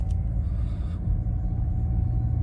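A Nissan Rogue Sport with four-wheel drive runs its engine at raised revs while driving through the city after a stop at a speed bump. A steady, loud low rumble is heard from inside the cabin, with no speech.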